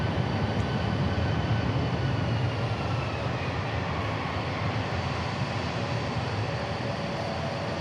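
Steady, loud jet engine roar from aircraft at DFW International Airport, a broad rumbling drone that holds evenly throughout with no voices.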